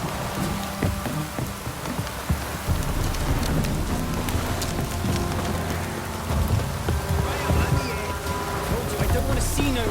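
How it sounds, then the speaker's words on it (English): Heavy rain pours down in a downpour in The Witcher 3, a dense, steady roar of drops with low rumbling beneath, loud and continuous throughout. "Proper downpour, this is."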